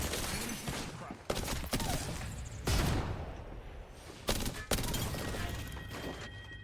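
Bursts of Apex Legends gunfire crackle through a busy firefight, with several sharp, loud shot clusters standing out over a dense, continuous din of battle.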